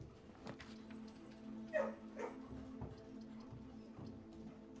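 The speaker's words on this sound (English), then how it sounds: "Oh, it was the dog." A dog indoors gives a couple of short, sharp barks or yelps from a little way off. Quieter scuffs and a low room hum fill the gaps between them.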